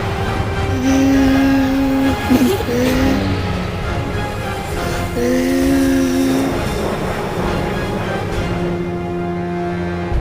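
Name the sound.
airplane flying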